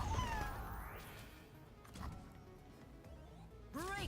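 A pet cat meows a few times, a clear rising-and-falling call near the start and another sharp meow at the end, with faint room noise and a brief thump between.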